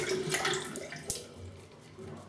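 Tap water runs steadily to rinse a RazoRock Hawk safety razor at a sink, with the handle loosened so the water gets under the blade, a short splashy hiss with one sharper knock midway.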